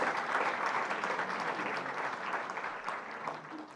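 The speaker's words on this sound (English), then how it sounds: "Can we have a round of applause, please?" An audience at an education report launch applauds in a sustained, even wash of clapping, fairly soft and heard from a distance, slowly tapering toward the end.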